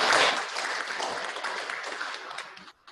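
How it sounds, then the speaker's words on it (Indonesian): Applause from an audience at a training opening ceremony, a dense, steady burst of many hands clapping indoors, close and loud for a few seconds before cutting off. "Tepuk tangan dulu."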